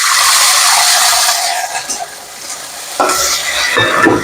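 Chillies fry and get stirred in a pan, a loud steady sizzle with scraping strokes that dips briefly in the middle before surging again near the end, with no talking.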